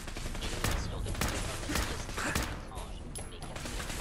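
Gunfire in the video game Fallout 4, with rapid repeated sniper-rifle shots and thuds over dense game noise while someone speaks French over the action.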